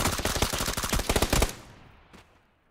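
Rapid automatic gunfire in PUBG rattles out in a dense, loud burst of shots for about a second and a half, then breaks off into a fading echo with one faint later report.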